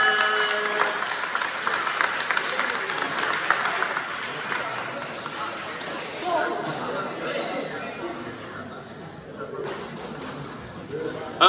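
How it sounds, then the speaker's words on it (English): An audience at a middle school program ceremony claps for a student, a scattered round that starts strong and thins out, with chatter and voices mixed in. "Can y'all give a hand clap for Amir Walker?"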